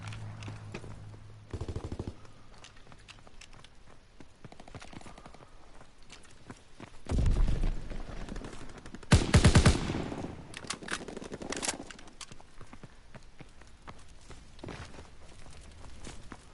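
Call of Duty WWII multiplayer enemy strafing run, with scattered game noises giving way to loud bursts of automatic aircraft gunfire in the middle, plus shorter shots and clatter around it.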